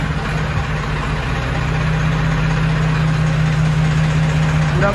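A modified Farmtrac 60 tractor idling close by, its diesel engine giving a steady, loud low rumble with an even knocking pulse that holds unchanged throughout, no voices over it.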